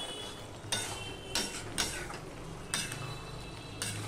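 Spiny gourd ghonto with garam masala gets stirred in a pan with a spoon. About five soft scraping strokes rise over a steady low sizzle and hiss, close but faint, with no voices.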